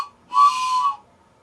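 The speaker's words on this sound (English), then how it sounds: "A 3-tone train whistle." A single sustained multi-tone wooden whistle blast, bright and chord-like, lasting about half a second and heard alone against near silence.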